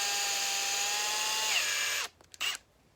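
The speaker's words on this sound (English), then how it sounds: "take the drill" A power drill bores into a mini bike part, its high steady whine holding for about two seconds before dropping in pitch and cutting out, followed by a couple of brief mechanical bursts.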